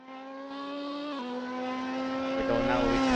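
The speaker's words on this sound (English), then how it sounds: "Now we can hear the engines." Race car engines in a racing video game at Suzuka Circuit, a steady high-pitched droning whine that steps up in pitch and grows gradually louder over a few seconds, with no talk.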